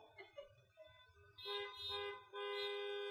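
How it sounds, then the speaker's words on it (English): Car horns blaring in the parking area of an outdoor rally, a few short toots followed by two long sustained blasts from several vehicles, fairly distant and moderately loud. "I want you to honk two and one short."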